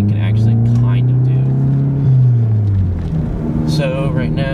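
A Volkswagen GTI drives winding back roads, its engine humming loud and close with a rising and falling drone, while someone talks over it.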